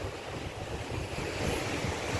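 Sea waves washing onto a Tanzanian beach, a continuous rushing surf with heavy wind buffeting the microphone, loud and close throughout.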